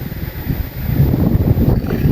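Strong wind blows across an outdoor work site, roaring and buffeting the microphone in loud low gusts that swell and ease without a break.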